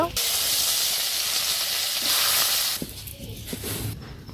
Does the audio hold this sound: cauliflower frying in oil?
yes